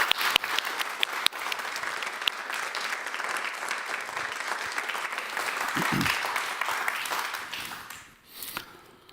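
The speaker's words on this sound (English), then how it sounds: "give a very, very warm applause to Zineb El Rhazoui" Warm audience applause welcoming journalist Zineb El Rhazoui at an onstage conversation event, a dense steady wash of many clapping hands lasting several seconds before tapering off near the end.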